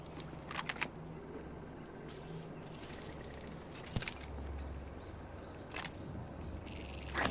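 Shields recharging in the video game Apex Legends, electronic whirring and clicking effects with sharp bursts and crackles, close and loud, with no talking.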